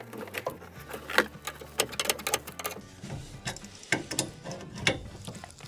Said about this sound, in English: When I tighten compression nuts, I prefer to use spanners.